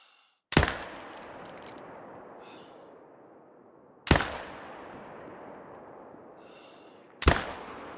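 Three loud, sharp rifle shots in a hunting video game, spaced several seconds apart, each followed by a long rolling echo that fades slowly; no talking.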